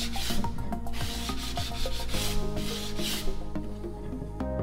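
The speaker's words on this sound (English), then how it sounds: "Now I'm just sanding the edges here, those corners, just to make them so they're not sharp." Steady back-and-forth rasping of sandpaper on the edges and corners of a wooden piece, rhythmic and close, continuing without pause through the whole stretch.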